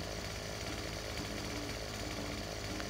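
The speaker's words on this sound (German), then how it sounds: "dieses blöde Kettensägengedöns" A chainsaw cutting wood in the farming video game Farming Simulator 17 runs at a steady, loud, continuous buzz throughout, with no talking.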